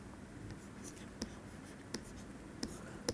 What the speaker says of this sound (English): let me write down the equation.